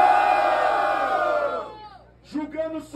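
A large crowd at a rap battle in Ceilândia, Brazil roars and cheers loudly, fading out over a couple of seconds before scattered shouts and voices rise again.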